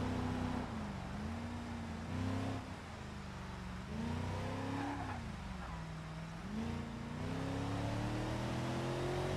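A vehicle is pushed to full power, its engine revving in a continuous drone that rises and falls in pitch over several seconds, loud and fairly close.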